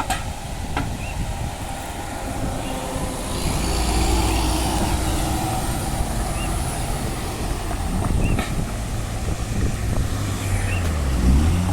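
Route 337 bus arriving over a bridge and pulling toward a stop, a steady low engine rumble that builds as it nears, with brief rattles and road noise mixed in.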